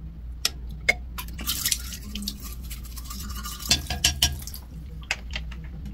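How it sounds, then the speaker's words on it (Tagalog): Teeth are brushed with a toothbrush up close, with scrubbing strokes, wet swishing and a few sharp clicks and taps coming in irregular bursts. "Tapos, toothbrush ulit."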